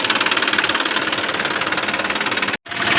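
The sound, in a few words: tractor engine running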